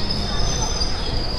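A local train at Namkhana station on the line from Sealdah, with a steady rumbling roll and a thin, continuous high wheel squeal, heard up close.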